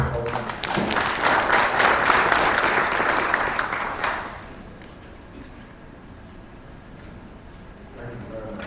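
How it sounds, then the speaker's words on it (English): Loud applause from a crowd fills the first four seconds, then fades to a quiet room with faint murmuring. "a round of applause"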